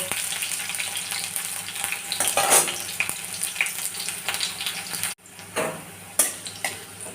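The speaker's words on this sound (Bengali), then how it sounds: "করলাগুলো খুব ভাজবো না মোটামুটি একটু ভেজে নিয়ে তুলে নেব" Steady sizzling of bitter gourd frying in hot oil, with a few spatula scrapes and clinks; the hiss drops briefly then resumes.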